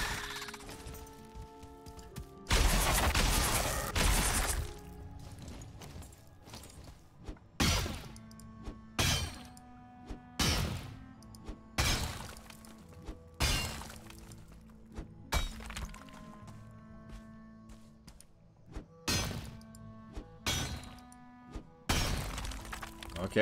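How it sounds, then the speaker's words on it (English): Pieces of a built structure break and burst apart in the video game Valheim, a long string of sharp crashes and shattering impacts. The bursts are scattered irregularly, some loud and some fainter, over quiet musical tones. "Okay, we're getting bits and pieces that are starting to explode."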